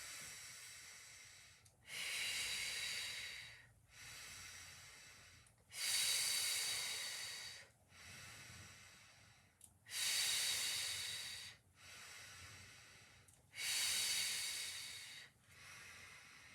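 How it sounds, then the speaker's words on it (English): Slow, steady breaths in and out during a Pilates exercise, with eight long, close, airy hisses alternating at an even pace of roughly two seconds each and no talking. "So breathing in, breathing out."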